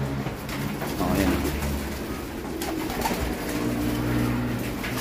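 A racing pigeon coos softly inside a loft, its low repeated calls mixed with rustling and handling noise, while someone talks over it.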